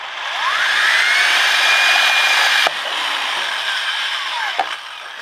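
A power drill whines at high speed while drilling out a rivet on prop armor webbing, a loud steady grinding drone that briefly cuts out and resumes, ending with a small snap.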